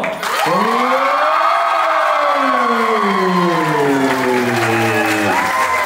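At a farewell party cake cutting, a crowd claps and lets out a long, falling collective cheer that rises again at the end. It is loud and continuous throughout.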